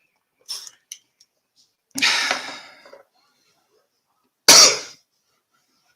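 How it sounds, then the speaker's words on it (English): A person coughs a few times in a quiet room, a couple of small throat sounds followed by two harsh, close bursts spaced apart. "Hate coughing, but I don't have much of a choice."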